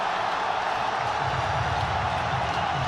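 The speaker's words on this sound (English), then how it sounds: "Listen to the crowd." A cricket crowd at a T20 World Cup semi-final between Pakistan and New Zealand, a steady, loud wash of massed voices and cheering that swells slightly in the second half.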